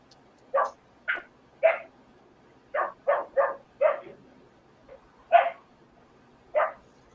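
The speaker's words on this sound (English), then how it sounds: "Is that your puppy, Ron?" Several dogs barking in short, separate bursts, about nine sharp barks spread irregularly across several seconds at moderate distance, with no talk over them.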